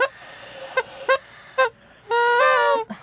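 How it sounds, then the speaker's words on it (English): Nasal honking horn blasts in a goose-like tone, several short toots and then one longer sustained blare, fairly loud with gaps between them. "Everybody's blowing the horn."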